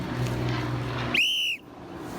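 A single sharp whistle blast, a short shrill bright tone lasting about half a second, cuts through low street-like background rumble and then stops abruptly.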